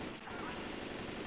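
Rapid automatic gunfire rattles continuously in Left 4 Dead 2, a dense, loud burst of overlapping shots with no pause.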